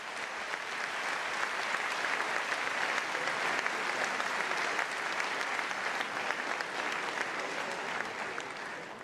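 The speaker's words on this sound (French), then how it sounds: "Je vous demande de les applaudir très fort." A large audience at a European People's Party gathering gives loud, sustained applause for three MEPs, a dense steady roar of clapping with no voices above it.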